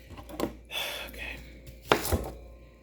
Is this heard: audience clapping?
no